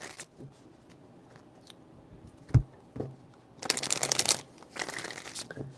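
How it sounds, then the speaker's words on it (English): Tarot cards being shuffled in two dense bursts of riffling, papery rustle, close and fairly loud, after a few soft handling taps and one sharp thump. "4 shuffles."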